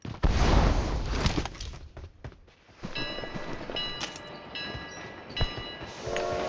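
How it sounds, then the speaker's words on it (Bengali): A train in the video game PUBG Mobile rumbles and clatters along. A brief horn-like tone sounds, along with other game effects, with no talk over it. "ট্রেনে উঠবি নাকি?"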